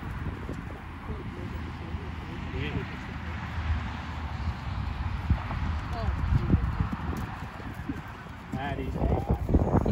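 A pony's hooves clip-clop on ground as it runs a sporting course, a fast uneven patter under steady wind rumble on the microphone, with voices faintly present outdoors.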